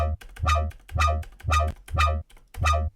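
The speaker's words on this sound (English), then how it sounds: "Next was a phaser, rate all the way down." A Serum synth patch run through a phaser with the rate turned all the way down pulses in six short, punchy notes with a heavy low end and buzzy, sweeping upper tones, close and alone.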